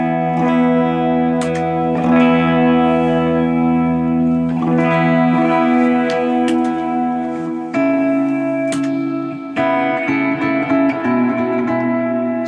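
Electric guitar played through a lightly set compression pedal, notes and chords ringing evenly and up front with a sustained, polished tone. The phrases flow continuously with no talk.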